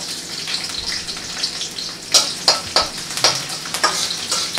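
Garlic, green chillies and carrots fry in hot oil for chilli chicken, making a close, hissing sizzle broken by several loud scraping and stirring bursts.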